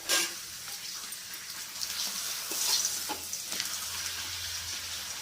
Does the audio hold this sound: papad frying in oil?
yes